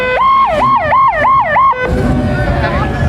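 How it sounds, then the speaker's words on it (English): Police car siren at a Christmas parade, a loud, close wailing yelp that cycles up and down about four times, then breaks into a rougher, noisier tone. "Here's a police car"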